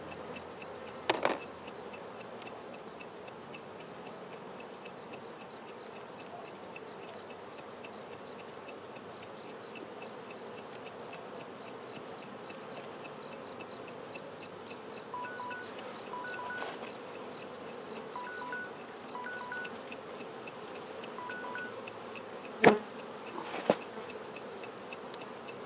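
Steady, low buzzing of many honey bees during a sugar-roll varroa mite test fills the whole stretch, with a few brief clicks and knocks near the end.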